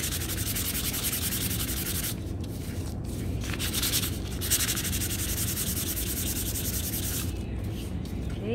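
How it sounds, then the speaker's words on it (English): Sandpaper rubs steadily over a painted wooden shiplap sign, a continuous close scratchy rasp with brief pauses and changes in stroke, heard alone without talk. "I'm just going to sand this one as well because it is dry too"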